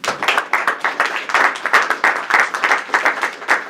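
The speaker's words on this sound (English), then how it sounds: "A round of applause for him." Applause from an audience at a student societies political debate, a dense run of claps with steady rhythm, fairly close and lively, filling the whole stretch without talk.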